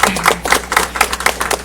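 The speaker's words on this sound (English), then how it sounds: "I just want to give you all a round of applause." A few people clapping near the microphone at a press conference, a short run of distinct, fairly loud claps in an irregular rhythm rather than a full crowd ovation.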